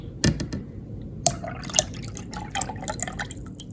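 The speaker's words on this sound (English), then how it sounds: "then we'll pour in 3/4 cups of pineapple juice," Pineapple juice poured into a pitcher already holding water while making Tahitian Terrace punch, heard as a close, uneven trickling and dripping splash with a few sharper plops, no talk.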